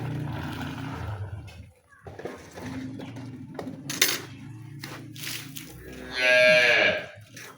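A Friesian cow offered for sale lets out one loud, close moo near the end, after several seconds of quieter shuffling and faint background sounds.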